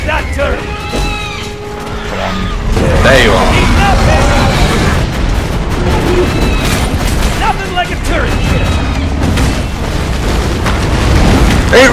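Rocket explosions in the Borderlands 2 finale boss fight, a dense, loud stream of booming blasts and bursts layered over music and constant combat noise, with voices speaking throughout.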